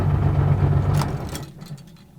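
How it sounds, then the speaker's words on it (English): Porsche 993 Carrera RS Clubsport with its air-cooled engine, a deep steady rumble heard from inside the car that fades out partway through, with a few light clicks near the end. "What an experience driving this car."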